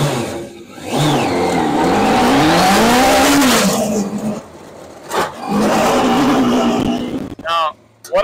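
Crosskart on a test drive, its small engine revving up and down loudly with tire squeal and skidding, passing close, with brief gaps where the sound drops away.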